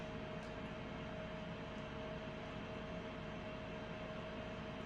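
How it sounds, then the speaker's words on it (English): Steady electrical buzz and hum from a clad multi-metal pan sitting on an induction burner, a constant tonal drone with faint broadband noise, continuous and unchanging throughout with no talking. "I'm using an induction burner, and the different metals layered in a clad design tend to kind of make that sound"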